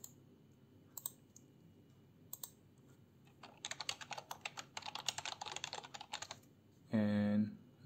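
A computer keyboard clicks as a password is pasted: a few isolated taps, then a quick run of close, crisp keystrokes, ending in a brief tonal beep, with no one talking.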